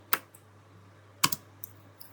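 A few sharp, separate keystrokes on a computer keyboard as a network switch command is typed, spaced irregularly over a quiet background hum.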